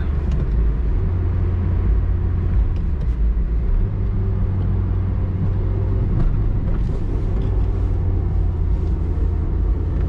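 A 1992 Citroen ZX 1.4i 75 hp petrol engine running with a misfire from a suspected injector or spark fault, a steady loud low rumble from inside the car with a slightly uneven drone throughout.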